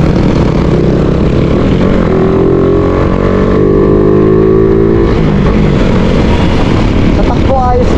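Suzuki Raider 150 Fi motorcycle engine with a Kalkal exhaust pipe idles loudly up close, then revs in rising and falling sweeps before settling back, with someone talking over it.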